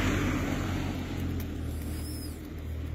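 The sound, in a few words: car driving slowly on a snowy road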